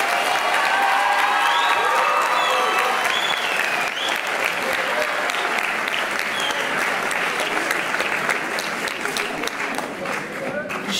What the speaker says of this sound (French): je vous propose que nous applaudissions très fort Madame Stavisky.